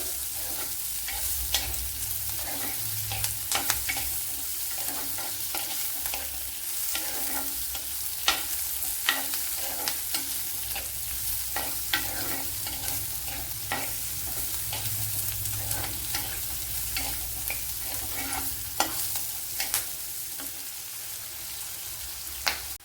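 Onion sautéing in a pan with ginger and garlic for a colocasia curry, a continuous close sizzle broken by frequent sharp spatula scrapes and stirring clicks, no voices.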